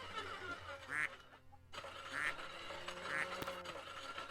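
Ducks quack in a farming and supermarket simulator game, three short separate quacks spaced about a second apart, moderately loud over a steady low background hum with no talking.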